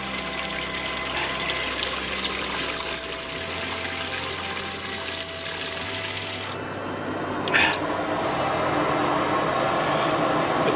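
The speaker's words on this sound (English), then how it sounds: "I've been letting the water run here for about 15 minutes." Water runs steadily from a tap in a pop-up camping trailer with a constant splashing rush, and partway through the flow shifts and a brief clatter sounds before it continues.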